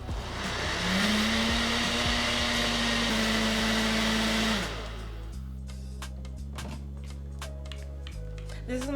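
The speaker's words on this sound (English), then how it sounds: "now we're ready to blend" Blender whirring through huevos rancheros sauce, a loud steady motor whine for several seconds that drops to a lower, rattling spin before continuing.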